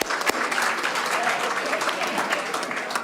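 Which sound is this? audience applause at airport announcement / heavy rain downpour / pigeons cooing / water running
audience applause at airport announcement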